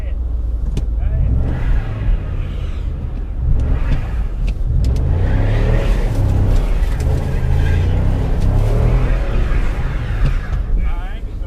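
A car stuck in snow revs its engine in a steady, fairly loud drone with rising surges while neighbors nearby call out and talk over it.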